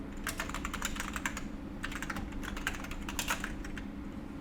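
Rapid keystrokes on a computer keyboard entering a username during account sign-up, a steady run of quiet, close clicks in uneven bursts with brief pauses, over a low background hum.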